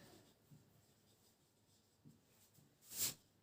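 Pen or pencil writing out a math formula by hand, soft close scratching strokes at a low level with a few small taps and one louder stroke near the end.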